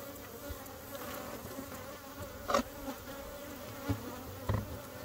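Bees buzz steadily around an opened hive in an apiary, a continuous low insect drone with a few louder passes of individual bees flying close.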